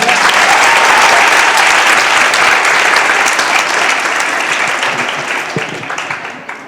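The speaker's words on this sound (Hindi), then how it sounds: "एक बार जोरदार तालियां" Loud, sustained applause from an audience at a Hindi comedy poetry gathering (hasya kavi sammelan), a dense wash of clapping that holds steady and then slowly fades toward the end.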